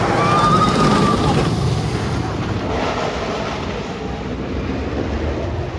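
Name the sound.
Toro roller coaster ride at Six Flags Great Adventure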